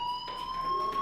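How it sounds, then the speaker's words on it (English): Fire alarm ringing inside a school in the video game Life is Strange: a steady, piercing electronic tone with shrill harmonics that drones continuously and evenly throughout, fairly loud and close, with no voices over it. "Hey, do you hear that fire alarm?"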